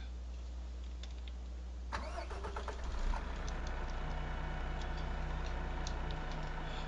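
A truck engine cranks and catches after a couple of seconds, then settles into a steady idle close by, with faint ticking over a low hum beforehand.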